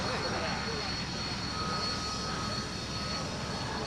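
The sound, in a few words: aeroplane engine during an airshow display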